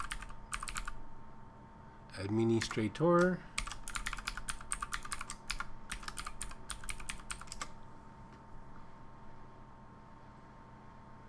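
Typing on a computer keyboard while setting up a Windows domain controller with Samba 4 on Ubuntu 22.04, quick bursts of close key clicks around a brief spoken word, then fading to scattered taps.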